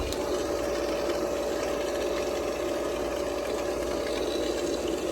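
Pool pump running after a chlorine tablet is dropped in the skimmer basket, a loud steady mechanical hum with a constant tone and no break.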